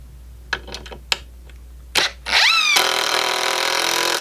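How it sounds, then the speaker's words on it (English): A few clicks and knocks are followed by a power drill spinning up with a rising whine, then running loudly and steadily as it bores pilot holes into 2x4 wood. "It's also a good idea to pre-drill these holes since we're so close to the end."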